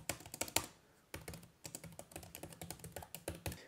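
Keys clatter on an MSI Prestige laptop keyboard, a 2024 Intel Meteor Lake 155H ultrabook, in quick, quiet bursts of crisp taps with a brief pause after the first flurry.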